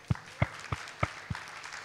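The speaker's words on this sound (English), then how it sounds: "if we can thank our panelists once again with a round of applause" A few scattered, faint hand claps, about five separate claps at an even pace, close to the listener, as a panel discussion on e-services in Bangladesh wraps up.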